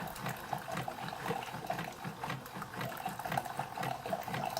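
A Keurig coffee maker runs a vinegar cleaning cycle, its pump chugging in a steady pulsing rhythm with bubbling, gurgling liquid, close and continuous throughout.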